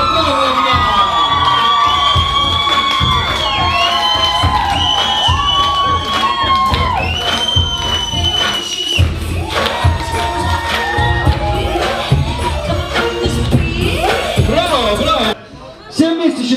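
Wedding-party audience cheering and whooping with clapping, a loud sustained crowd roar with shouting voices over music-like tones for most of the stretch, cutting briefly near the end.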